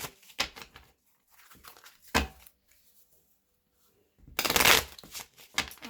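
Holographic Rider-Waite tarot cards are shuffled in several quick riffling bursts with quiet gaps between them, close and crisp, and the longest flurry comes near the end.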